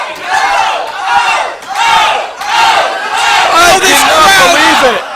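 Wrestling crowd at an AMP event roaring and chanting in loud, swelling waves, with rising shouts and cheers building toward a sustained peak, no clear talk over it.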